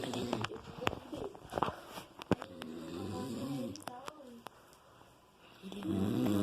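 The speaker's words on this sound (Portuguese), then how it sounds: "eu não quero acordar meu pai, mas eu vou gravar ele roncando" A man, the speaker's father, snores in his sleep indoors, with rough breathy snores recurring through the clip amid low room noise.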